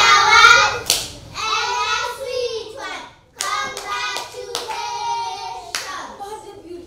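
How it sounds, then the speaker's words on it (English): Schoolchildren in a classroom clap their hands in a short rhythmic routine for a classmate, sharp claps mixed with loud, chanted young voices close by. "Good, clap for Joy"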